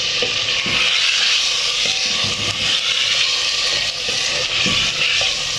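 Mutton sizzling and frying in a pan with ginger, garlic and chili paste, a steady loud hiss throughout with repeated scraping knocks of stirring.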